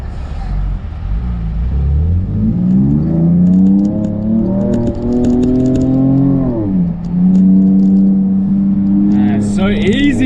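Ford Ranger Raptor 2023 engine held at high revs while driving on sand, a loud sustained drone rising and dipping with throttle, with a brief lift-off and return mid-way, heard from inside the cabin.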